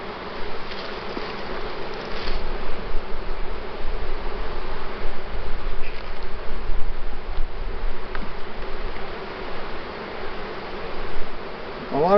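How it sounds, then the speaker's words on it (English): Agitated honey bees buzzing around an open hive during an inspection, a dense continuous hum of many insects close by, steady and fairly loud with slight swells, no talking. "upset bees right now."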